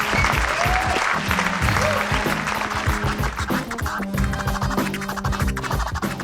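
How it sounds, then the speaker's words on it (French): A crowd applauds for Didier Lokilo at a jazz event, loud continuous clapping overlaid with sustained music tones throughout. "je vous demande de faire un tonnerre d'applaudissements pour Monsieur Didier Lokilo"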